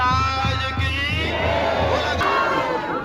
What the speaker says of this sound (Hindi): भीड़ देखिए मुनि महाराज जी के दर्शनों के लिए कैसे बेताब है